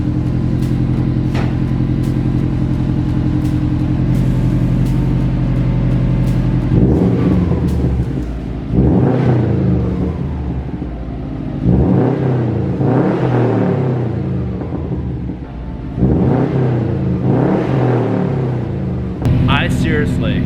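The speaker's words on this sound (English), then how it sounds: "I seriously cannot even tell you how freaking happy I am to hear this Subaru rumble like it's meant to" Subaru WRX fitted with a Nameless 4-inch axleback exhaust idles with a deep, low rumble, then revs in a series of about five rising-and-falling blips, loud and close.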